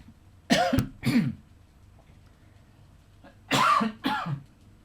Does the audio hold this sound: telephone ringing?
no